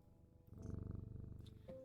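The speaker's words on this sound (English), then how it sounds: "I get to pat a good cat." In the video game Strange Antiquities, a cat purrs as it is petted, a close, soft rhythmic rumble that starts after a brief pause and pulses steadily for over a second.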